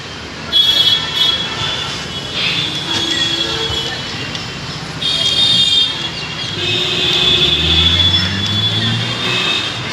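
A Mumbai metro train at Siddhivinayak station rumbles loudly and steadily past, its wheels squealing in high, drawn-out whines over a constant rail roar.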